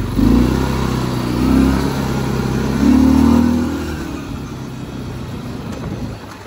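A Linhai 550 ATV engine in low gear revs up in repeated surges while accelerating, a loud, close droning roar that rises and falls twice before settling into a steadier, slightly quieter hum.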